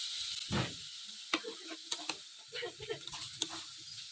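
Spiced jackfruit curry is stirred in a pan after a splash of water is added, with scraping spoon strokes and scattered clicks over a soft, quiet sizzle.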